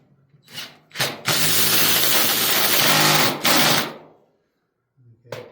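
Hammer drill boring a hole into concrete for Everbilt concrete anchors, loud and close, in two sustained bursts with a brief pause between and short quieter starts.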